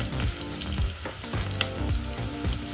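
Onions, curry leaves and turmeric fry in a pan for an avarekaalu gojju curry, giving a busy, crackling sizzle up close with scattered pops and some low clattering, steady and unbroken throughout.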